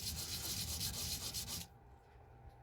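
A silver ring is rubbed flat on sandpaper in quick, close back-and-forth gritty strokes lasting under two seconds. A quieter pause follows.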